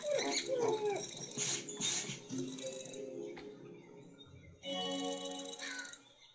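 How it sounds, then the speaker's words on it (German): A dog in a video game whimpers and yelps as it is beaten, high whiny cries in short bursts over clattering game sounds, fairly quiet, followed by a steadier game tone. "Ach komm, verprügel den Hund nochmal."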